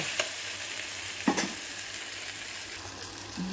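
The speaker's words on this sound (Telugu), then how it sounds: "అల్లం వెల్లుల్లి పేస్ట్ బాగా వేగిద్దాము" Ginger garlic paste fries in oil in a pan for a prawn curry, with a soft, steady sizzle and a few stirring knocks and scrapes.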